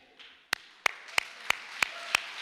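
An audience applauds the rabbinic class of 2017 at an ordination ceremony: crisp, evenly spaced hand claps from someone close by ring out over a softer wash of hall applause.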